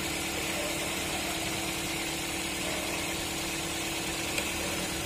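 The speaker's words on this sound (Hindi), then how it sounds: "यही देख सकते अभी गाड़ी चालू है" Toyota Corolla Altis petrol engine idling with a starting problem, a steady even hum with a constant drone and light vibration, close and unbroken, no talking.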